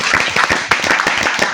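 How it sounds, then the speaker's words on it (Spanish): A church congregation claps in a brief, fairly loud burst of applause with uneven, overlapping claps and no clear speech. "Dale un fuerte aplauso al Señor."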